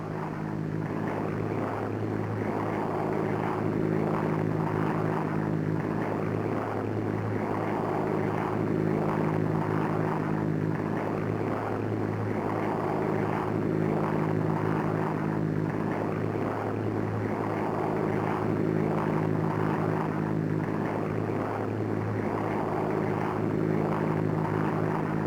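A propeller transport aircraft flies over a drop area at about 100 miles an hour with the throttle pulled back while side-slipping, giving a steady, loud droning engine hum with a slow pulsing throb and no talk.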